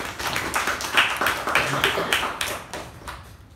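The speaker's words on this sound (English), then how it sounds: "A big round of applause to Toastmaster Mehjabin" Short burst of clapping at a Toastmasters club meeting, a handful of people applauding in uneven bursts that thin out within a few seconds.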